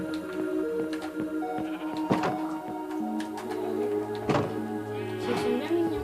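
Sheep in the Minecraft video game bleat three times in short, wavering cries, spaced a second or two apart over steady background game music.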